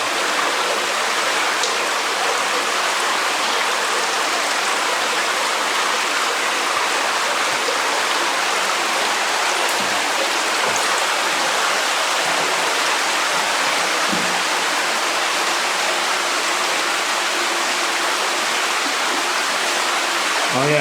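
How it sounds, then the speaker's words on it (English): Water from a spring rushes over rapids inside Deadhorse Cave, a dense, steady roar close by that fills the whole stretch without pause. "See how there's like rapids here? It's coming out of a spring on the left."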